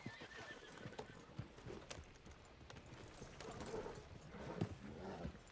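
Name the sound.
horse neighing and hooves in a video game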